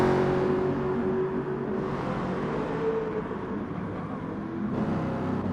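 Racing car engines whine steadily as cars slide through a corner and pass under a bridge in a video game race, a continuous loud drone with shifting pitch and no talk.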